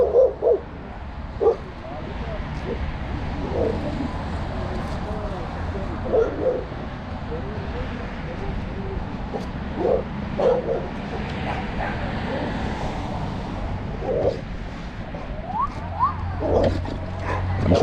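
A big dog barks repeatedly in short, loud yips and woofs scattered across a noisy outdoor scene, with people talking nearby in between.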